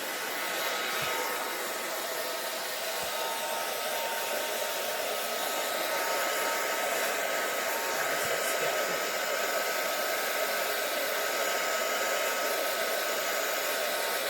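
A hair dryer blows nonstop at close range to dry paint on a Dollar Tree craft cross, a steady, loud, even whir with no pauses or voices.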